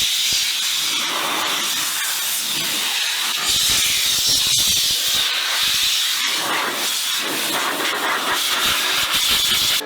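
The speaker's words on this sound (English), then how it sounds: "Ryan has begun blowing out the trap water from the gaps and crevices" Compressed air blasts trapped water from the gaps and crevices of a Range Rover SVR being detailed, a loud fluctuating hiss with short bursts and sputters as the nozzle moves around.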